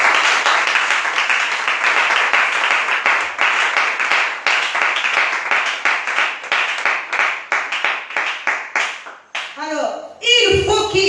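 A church congregation claps and applauds the Lord, loud rhythmic hand-clapping sustained for several seconds, thinning out toward the end as a few voices cheer.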